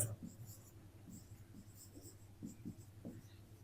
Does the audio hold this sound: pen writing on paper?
yes